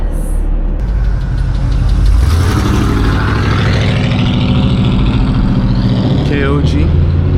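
Catless BMW 440i engine pulling hard on a late-night city drive, a loud, raspy exhaust note climbing steadily in pitch as it accelerates, heard from inside the car.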